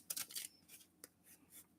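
A deck of trading cards is shuffled by hand, giving quick papery riffles and soft slaps in a short burst, then a few lighter flicks, close and quiet with no talking.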